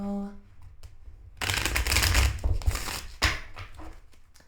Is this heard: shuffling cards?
yes